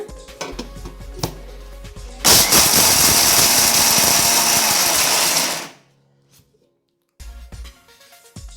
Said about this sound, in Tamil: இது ரொம்ப நைஸாக அரைக்கக்கூடாதுங்க, கொஞ்சம் திரியாக அரைக்கணுங்க.